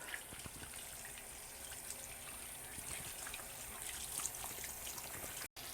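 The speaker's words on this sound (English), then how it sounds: "I'm leaving the water on because you don't want to turn it off the handles with your clean hands" Warm water runs steadily from a sink faucet during handwashing, a soft continuous trickle and splash held close with no talking, cutting out briefly near the end.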